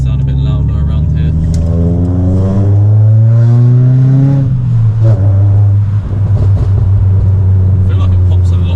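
A Ford Fiesta ST150 with a custom RS-style dual-exit exhaust revs loudly nearby in a built-up street, its deep engine note rising and falling, with a voice talking over it.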